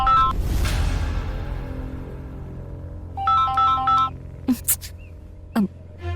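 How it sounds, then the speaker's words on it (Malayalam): A mobile phone ringtone plays for an incoming call: a short electronic melody of quick repeated tones, heard near and clear after a louder opening burst, with brief chirps following. "ഒരു കോള്, ഒരു മിനിറ്റ്."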